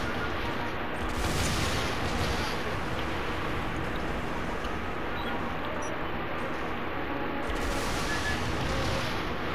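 Gunfire from a video game crackles in dense, continuous bursts over a loud, busy background of game noise for nearly ten seconds, without any talk.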